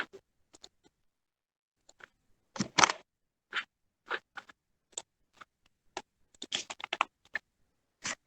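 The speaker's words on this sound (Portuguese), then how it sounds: "Eu vou digitar aqui 1." Keys on a computer keyboard are pressed in sparse, irregular bursts, single taps and short quick runs with pauses between, crisp and close against a silent background.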